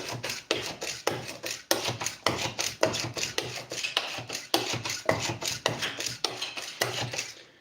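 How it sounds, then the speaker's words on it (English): Rapid, steady clattering of a metal whisk beating batter in a bowl, close and continuous with a brisk rhythm, no talking. "You can use a manual whipping tool like this"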